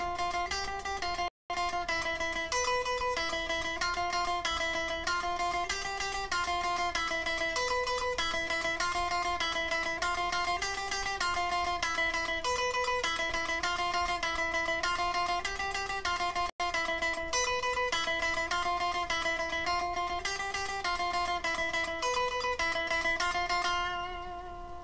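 Alternate picking exercise on guitar, steady single notes moving across strings in an even, continuous rhythm, clear and close with no talking.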